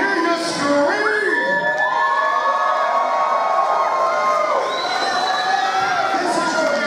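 A loud crowd at a So Fly Combat League fight event in East Jordan, Michigan, cheering, whooping and screaming continuously, with high shrieks and children's shouts rising above the roar.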